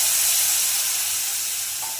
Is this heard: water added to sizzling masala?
yes